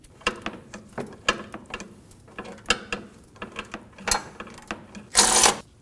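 A ratchet works a bolt loose on a 2019-2025 Ram 2500 grille, giving quiet, close, irregular clicking bursts of metallic ticks spread across the clip, ending in a brief louder rattle.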